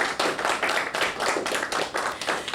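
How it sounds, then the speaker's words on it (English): A room claps for the music video team at a school band and choir music video launch, with loud, close clapping in a brisk, slightly uneven rhythm throughout. "Once again, a round of applause."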